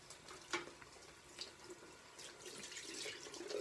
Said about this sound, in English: so you're gonna rinse out your hot cloth